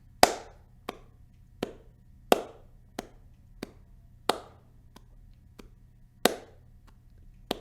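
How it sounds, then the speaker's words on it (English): Hands clap in three-beat time, each louder accented clap followed by two softer ones, sharp isolated claps alone in a quiet room. "Just clap louder on the first beat and let the other 2 beats be soft."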